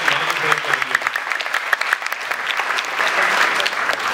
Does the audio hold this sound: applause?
yes